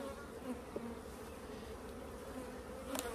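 Honeybees, including drones, crawl over a frame of pollen and honey comb, giving a steady, soft, close hum with a couple of brief louder buzzes as individual bees pass.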